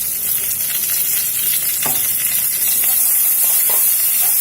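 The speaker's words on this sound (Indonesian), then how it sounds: "Kita aduk lagi, kita tumis. Hingga harum ya Bunda." Bay leaf, galangal, lime leaf and ginger for beef soto are stir-fried in a pan, giving a steady close sizzle with occasional stirring scrapes and no talking.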